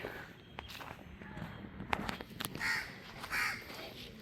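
Several harsh crow caws ring out at moderate distance at Sungai Buloh, Singapore, mixed with scattered footsteps and faint background noise.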